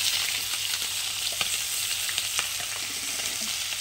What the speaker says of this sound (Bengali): তো দেখো মাছের মাথাটা ভাজা হয়ে গেছে। আমি এখন একসঙ্গে পেঁয়াজ রসুন দিয়ে দেবো